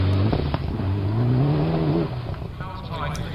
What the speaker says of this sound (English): Out in a new car for the first time, a fantastic looking Mitsubishi WRC replica